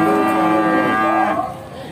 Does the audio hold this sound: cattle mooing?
yes